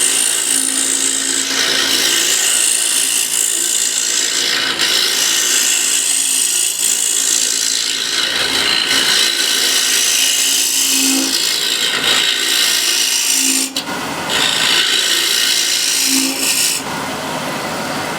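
Hand tool shaving wood off small offcuts, a close, loud rasping scrape repeated in long strokes with brief pauses between passes.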